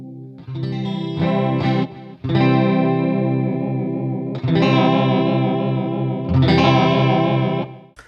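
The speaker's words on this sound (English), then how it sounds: "So hopefully you can hear that it's kind of a chorusy delay" Electric guitar chords shimmering through a Lekato Cube Baby pedal's chorus and delay effect, several sustained strums with swirling, echoing repeats, loud and alone.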